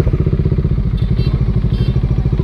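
Bajaj Dominar 400 motorcycle fitted with a Hyundai i20 muffler, idling loud and close with a fast, even throbbing exhaust pulse and no talk.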